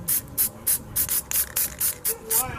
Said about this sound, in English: I'm just going to put them on this box here and spray them down.